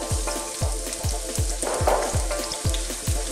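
Whole chilies and sliced onions sizzle steadily in olive oil in a pan, a dense close frying hiss with regular low thumps pulsing under it throughout.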